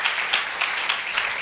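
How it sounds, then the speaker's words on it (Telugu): A church congregation at a cross meditation gathering claps together, a dense, steady round of applause with loud, even, overlapping hand claps throughout. "సంతోషంగా ఉన్న వాళ్ళందరూ ఒక్కసారి చప్పట్లు కొట్టాలని కోరుతున్నాను."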